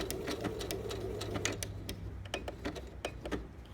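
Sewing machine stitching a buttonhole, a steady fast mechanical clatter of needle strokes close up, with a low motor hum underneath and no talking.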